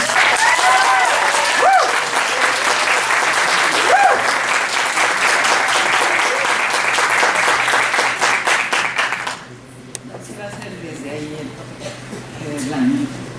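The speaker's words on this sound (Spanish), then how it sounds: "Pues un aplauso para la maestra, por favor." A room full of people applauds a speaker at a talk, a steady wash of clapping for about nine seconds that then drops away, leaving quieter room sound and a voice speaking.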